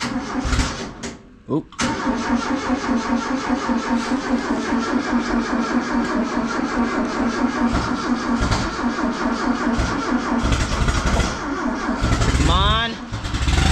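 Old tractor fitted with an aftermarket lawnmower seat cranks after a short stumble, catches and settles into a loud, steady close-up running rumble, with a man's brief remarks over it.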